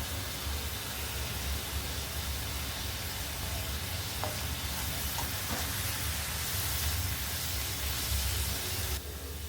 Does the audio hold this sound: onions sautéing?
yes